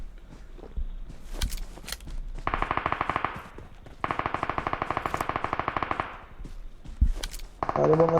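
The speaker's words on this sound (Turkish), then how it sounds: "Tamamen 249'dan patır kütür vuruyor." M249 machine gun fire in PUBG, long sustained bursts of rapid loud shots with brief pauses between them, plus a few scattered single impacts.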